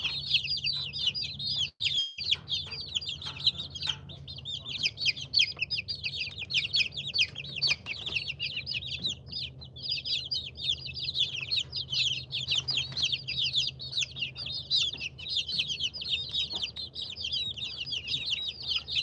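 Big chickens at a ranch cluck and chirp continuously in a dense, busy chorus, close by, with a low steady hum underneath.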